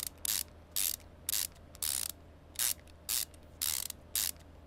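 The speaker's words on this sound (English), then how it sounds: "we definitely need to upgrade this ratcheting" A ratchet in the Car Mechanic Simulator 2015 game tightens car parts in eight quick, evenly spaced bursts of loud clicking, each followed by a short silent gap.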